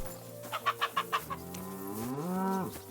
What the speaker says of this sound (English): The chicken just laughed at me.